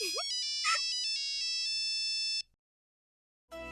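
Mobile phone ringtone in an Indian TV drama scene: a bright electronic melody of clear pitched tones plays loudly for about two seconds, cuts to silence, then another tonal burst resumes, with no talk.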